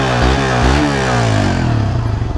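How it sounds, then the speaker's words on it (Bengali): Loud, close revving from a Suzuki GSX-R150 motorcycle's dual-barrel exhaust, with a few sharp throttle blips that then settle into a steadily falling engine note. "এটার এক্সস্টটা অনেক লাউড আর একটা স্পোর্টি সাউন্ড দেয়।"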